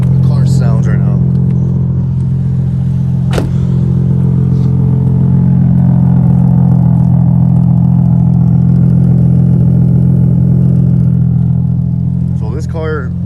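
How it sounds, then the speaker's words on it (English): A Nissan 350Z with an HR engine swap and an added resonator, previously raspy, idles close and loud with a steady deep drone throughout, a brief clatter early on and light noises at the edges; no talk. "how the car sounds right now"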